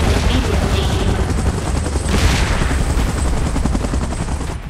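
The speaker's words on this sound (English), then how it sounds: "Chopper in position." A helicopter in a Godzilla and Mechagodzilla film scene, heard as a loud, dense and constant rotor roar mixed with rumbling action noise, with no talk.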